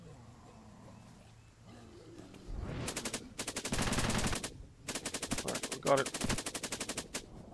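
Machine gun fire in the zombie strategy game Cepheus Protocol, opening on a low rumble before bursts of rapid loud shots start and repeat in close sequence, with a brief spoken line mixed in.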